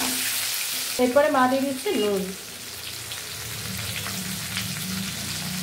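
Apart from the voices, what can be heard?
raw mango pieces frying in hot oil for pickle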